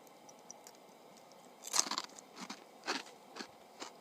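Loud, close crunching from chewing a crisp snack seasoned with Tabasco beside a campfire, several sharp bites spaced about half a second apart with no talking.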